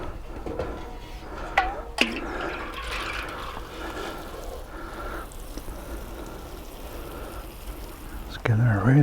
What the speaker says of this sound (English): I'll probably end up putting about 10 can loads of water on this by the time I've gone